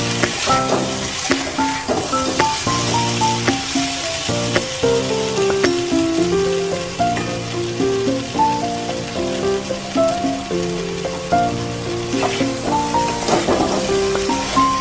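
Water added to fried spices in a pan for a Bengali fig (dumur) dish gives a steady, dense sizzle throughout, with a melodic music track playing over it and no talking.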